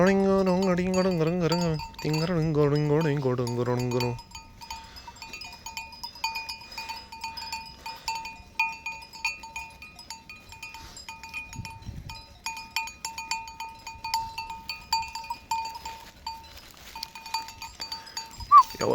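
Sheep flock grazing in a green field, with a few loud bleats near the start followed by quieter rustling, scattered movement and faint distant bleats.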